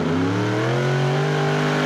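A super stock diesel 4WD pulling truck roars at full power during a pull, its engine note loud, close and sustained, climbing slightly in pitch throughout.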